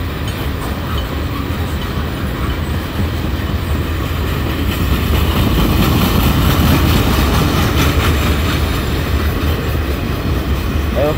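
Freight train boxcars roll steadily past on the rails, close and loud, with a continuous rumble, clickety-clack from the wheels and a faint squeal near the end.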